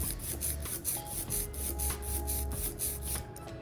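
Ink roller rolling sticky printing ink across a printing plate, a soft rhythmic tacky rasp repeating back and forth about three times a second, close and fairly quiet.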